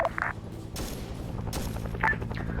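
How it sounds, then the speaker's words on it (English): Bursts of rapid gunfire crackle in a Vietnam War video game soundscape, a few short volleys separated by brief gaps, somewhat distant and mixed with low background noise. "Never mind, I hear gunfire."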